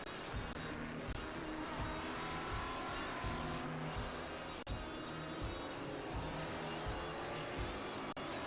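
Race cars roar along the track at Mid-Ohio during a vintage SpeedTour event, including a Corvette, taking the green flag at the start, a loud continuous engine drone with rhythmic pulsing as cars pass close by.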